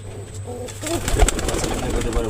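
A pigeon held in the hand coos in soft, close, throaty bursts, with rustling and handling noise around it.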